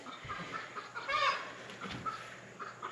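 Several chickens cluck softly and irregularly close by, with one louder burst of clucking midway, against a faint outdoor background.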